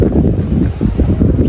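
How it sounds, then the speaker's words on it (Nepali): Cold wind by the sea on the rocks at Lighthouse Park, West Vancouver, buffets loudly and steadily with a broad rushing roar and gusty microphone noise, with no talk. "समुद्रको छेउमा चिसो हावा।"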